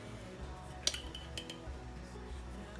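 A metal spoon clinks a few times against a bowl or slow cooker as homemade ranch seasoning powder goes in, with light, sparse taps over a quiet kitchen background.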